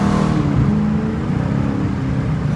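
A Dodge Challenger R/T with bald tires accelerates, its engine droning loud and close with a rising rev and whirring tone throughout.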